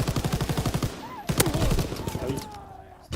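Rapid automatic gunfire from the Call of Duty video game rattles in a quick even burst. It then gives way to someone talking, with game sounds faint in the background.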